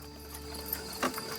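A horse's hooves clop faintly on a summer road in rural Kansas, a few soft irregular hits over a quiet background hum, with no talking.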